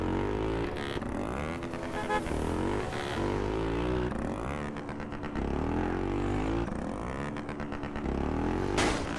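Motorcycle engine in GTA San Andreas, a Honda Titan, revving loudly and continuously with repeated rising and falling pitch sweeps, close and steady throughout, with no talk over it.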